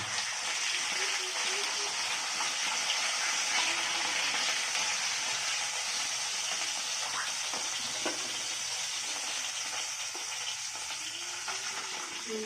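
Valanki fish frying in hot oil, a steady loud sizzle and crackle that holds without a break for the whole stretch.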